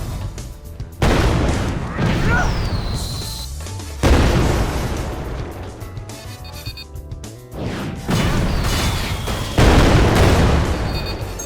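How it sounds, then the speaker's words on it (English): Game enemies in Sonic Infinity Engine blowing up after colliding when launched, a run of loud booming, crashing impacts in bursts over dense game music and effects. "If an enemy collides with something when launched by the deep impact, it will explode"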